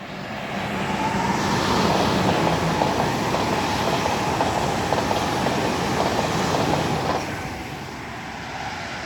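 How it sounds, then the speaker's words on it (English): A pair of Great Western Main Line IET trains running on electric power pass close by at Sonning Road Overbridge, a loud sustained rolling roar that swells, holds for several seconds, then fades. "we now have a Great Western Mainline IET coming past. And these running with electrical power."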